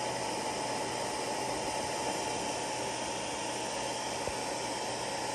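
Cooling fans run on an overheating electronics module, a loud, even, continuous rushing whir with a low hum beneath it and no pauses.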